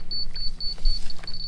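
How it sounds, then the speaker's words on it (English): A small buzzer on a laser depth-measuring device beeps in quick repeated high-pitched pulses beside a Rogator RG1300c sprayer in a wet field, with a low steady hum underneath. "You can hear the little buzzer going off."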